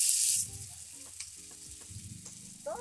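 A batter-dipped snack dropped into hot oil, a loud hiss at the start settling into steady, close sizzling and crackling, with a light knock near the end.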